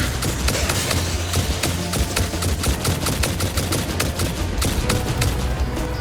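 Rapid gunfire from a weapon in the video game Satisfactory, a dense stream of sharp, loud shots crackling steadily over a low rumbling backdrop of game sound.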